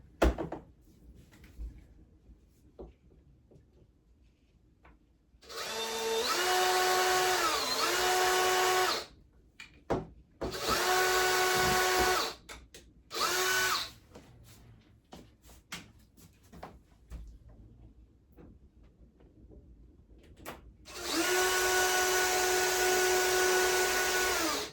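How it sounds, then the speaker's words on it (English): A power drill whines in three bursts while drilling a pilot hole for roman shade brackets, revving up and slowing with a tonal motor pitch, separated by quiet pauses with faint handling clicks. "next I just need a drill bit to just kind of do the pilot hole"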